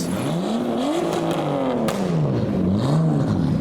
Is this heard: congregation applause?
no